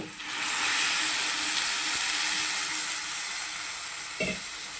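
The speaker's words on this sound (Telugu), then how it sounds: "ఇప్పుడు ఇందులోనే నీళ్ళు వేసుకుంటున్నాను" Green peas curry frying in a pan sizzles loudly and steadily as water is poured in, with a sharp burst of hissing and bubbling that stays broad and continuous, plus a brief clink near the end.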